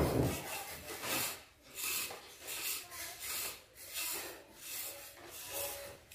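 Gentle sawing of a small wooden kite frame, about eight slow back-and-forth rasping strokes in an even rhythm, close and clear with no talk.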